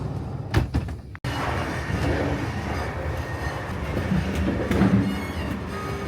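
Interior of a moving train in Switzerland, with a few sharp knocks and a loud clunk like a door or luggage, then a steady rolling rumble and rattle of the carriage, close and continuous without voices.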